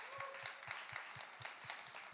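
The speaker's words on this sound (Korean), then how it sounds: "우리 박수로 같이 축복했으면 좋겠습니다" Applause from a church congregation at a university ministry gathering, quiet and distant, with steady clapping over a soft low thump roughly every quarter second.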